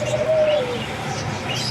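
A bird at its nest with growing chicks gives a single clear call, a short whistled note near the start, over a steady outdoor background and no talking.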